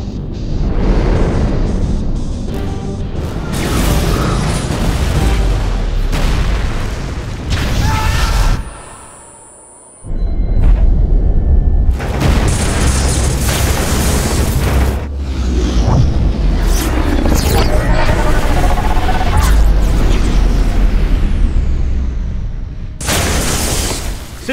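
A Star Trek starship takes weapons fire, with loud, close explosions, booms and crashing impacts arriving in dense repeated bursts. There is a brief lull near the middle before the blasts resume.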